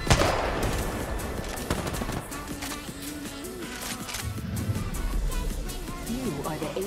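Kraber sniper rifle shots in the Apex Legends video game, sharp loud cracks at the start and then scattered gunfire under an excited voice talking through most of the stretch.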